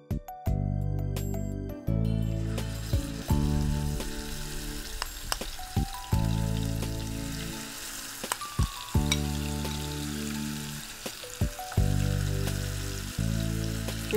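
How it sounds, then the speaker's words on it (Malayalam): Mussels frying in hot coconut oil give a steady sizzle that runs through the whole stretch, partly masked by loud music with sharp on-off breaks. "വെളിച്ചെണ്ണ നന്നായി ചൂടായി കഴിഞ്ഞാൽ കല്ലുമക്ക അതിലിട്ടിട്ടൊന്ന് വറുത്തെടുക്കാം"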